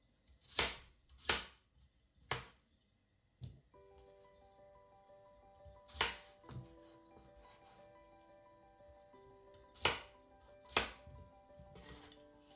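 Knife chopping carrots on a cutting board for cabbage and duck soup, a handful of sharp, separate close thuds spaced irregularly, with faint steady kitchen hum and tonal background between strikes.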